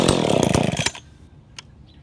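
McCulloch ProMac 10-10 automatic chainsaw running loud and close with a rough buzzing drone, then cutting out abruptly into near quiet with a faint brief sputter.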